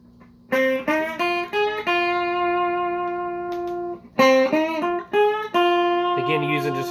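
Electric blues guitar playing a short lick in F with tiny string bends, bright picked notes ringing out in phrases separated by brief pauses, clear and close with no talking.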